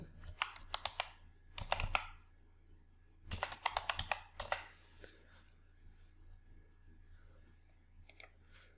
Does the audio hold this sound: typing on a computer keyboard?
yes